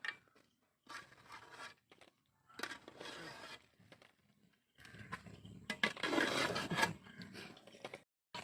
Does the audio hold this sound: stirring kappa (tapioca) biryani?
yes